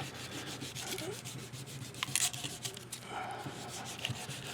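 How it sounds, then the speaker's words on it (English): A coiled sanding rod polishing a carved wax ring, soft close rubbing and scraping strokes worked round and round in a quiet, steady, irregular rhythm. "Nice little sanding rod there."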